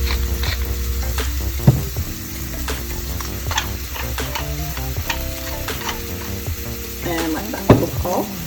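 Garlic with salt and pepper sizzles steadily in a pan over about eight seconds, broken by occasional scraping stirs and a couple of sharper clatters from the utensil near the end. No one speaks.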